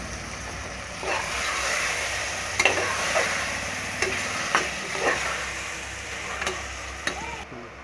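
Ginger garlic paste sizzles steadily in a pot for mutton biryani, with scattered close scrapes and clinks of a spoon stirring through it.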